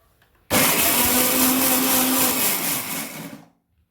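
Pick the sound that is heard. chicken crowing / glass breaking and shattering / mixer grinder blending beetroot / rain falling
mixer grinder blending beetroot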